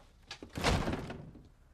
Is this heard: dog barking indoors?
no